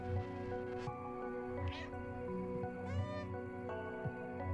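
Cat meowing in the video game Stray, several clear mewing calls rising and falling over steady background game music, with someone talking and also imitating the meow.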